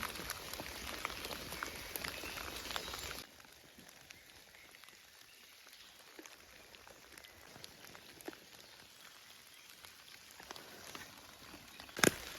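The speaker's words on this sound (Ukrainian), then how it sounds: "почався дощ" Rain falls steadily outdoors in a countryside vineyard, with a dense hiss of drops that is loud at first and then softer, plus scattered taps and a sharp knock at the end.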